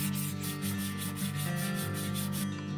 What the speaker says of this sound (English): This is where the real manual labor starts, the sanding of this board